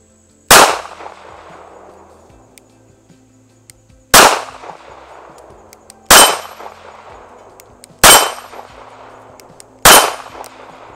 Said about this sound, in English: hopefully you can hear some steel ringing